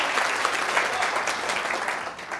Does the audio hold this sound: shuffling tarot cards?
no